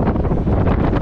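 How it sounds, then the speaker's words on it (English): Wind rushing over the microphone while riding an Engwe EP 2 Pro folding fat tire e-bike at about 20 mph, a loud continuous buffeting roar with fluttering pulses. "Gets the wind too."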